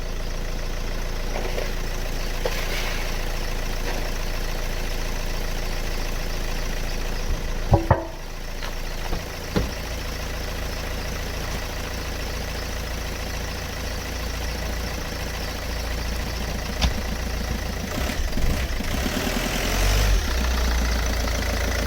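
A Vauxhall Vectra 2.2 DTi diesel engine idles close by, a steady low rumble with a brief clunk and rattle partway through.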